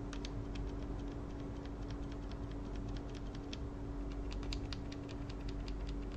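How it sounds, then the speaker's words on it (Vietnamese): Tactile, non-clicky AKKO O-Ring V2 switches on an AKKO V2 One Piece mechanical keyboard, pressed with no keycap fitted, giving quiet, rapid irregular ticks over a steady background hiss. "Các bạn có thể nghe tiếng chay khi không có keycap này."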